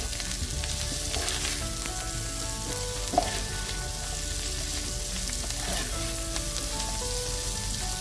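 Chilli chicken and potatoes roasting in ghee in a pan on medium flame, a steady close sizzle and crackle running throughout with a few soft stirring scrapes and no talk.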